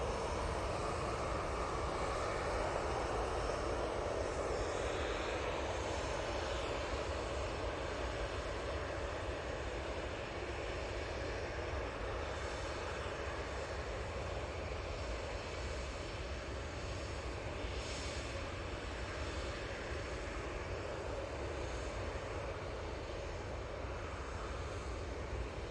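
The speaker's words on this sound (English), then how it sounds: "But do have an Easyjet coming on. This is a 320 going off to Tenerife." An EasyJet Airbus A320 departing Manchester Airport for Tenerife, a faint, distant, continuous jet engine drone that stays even and unbroken throughout.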